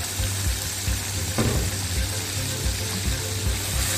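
Chopped onions and a blended habanero and scotch bonnet pepper mix fry in a pot for egusi soup, giving a low, steady sizzle with soft bubbling and faint stirring clicks, no talk.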